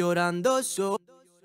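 A sung reggaeton vocal phrase of a few held notes, followed by quieter quarter-note delay echoes of the voice trailing off after it stops.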